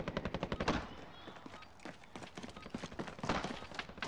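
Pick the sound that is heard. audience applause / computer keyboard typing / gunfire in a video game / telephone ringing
gunfire in a video game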